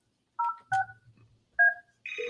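Telephone keypad dialing tones from a business phone system, a few short dual-pitch beeps in an uneven sequence, loud and close with no voices.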